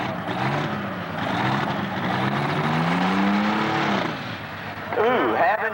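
An alcohol-fuelled pulling tractor at a 1996 tractor pull in Madisonville, Kentucky roars steadily, its engine note climbing and straining, then falls off before a fresh burst, with a public-address announcer speaking over it.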